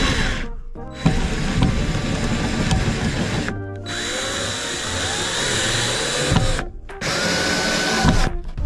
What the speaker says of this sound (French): avec la visseuse, vous pré-rentrez la vis dans le tasseau